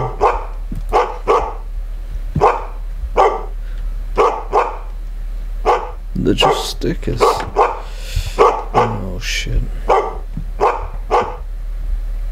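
Ace, a dog, barks again and again in a rapid, insistent series, loud and near, while someone briefly speaks over the barking partway through.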